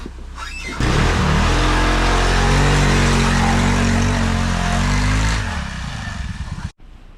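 A tractor with no chains and no added weight ploughs through heavy snow after a nor'easter, its engine a loud, steady drone that eases off near the end before cutting out.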